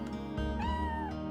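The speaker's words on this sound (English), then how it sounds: "That's not my mom, that's a cat." A cat in the Chrono Cross video game gives a single drawn-out meow that rises and then falls, sounding clear and close over a steady hum of game music.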